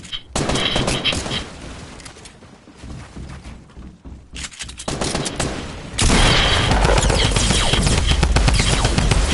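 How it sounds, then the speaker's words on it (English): A drum gun fires long rapid bursts in a Fortnite solo match, dense loud automatic gunfire with a short lull before another sustained, even heavier stream of shots. "My shots were not connecting right there for some reason."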